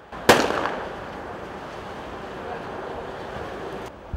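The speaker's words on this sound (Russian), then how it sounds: "их сразу же встречают ответными выстрелами" A single sharp gunshot cracks out during an anti-terrorist exercise at the Zhigulevskaya hydroelectric plant, followed by a long stretch of windy outdoor rumble and a second report at the very end.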